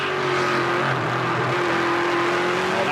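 Race car engine at the 2009 GP3R 100 held at a steady drone with a faint rough stutter of wheel hop while downshifting into a corner, loud and continuous from on board.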